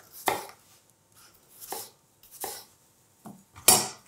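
A knife slices through apples on a cutting board, making four or five separate crisp chops at uneven intervals, the last one the loudest, with quiet pauses between them and no talking.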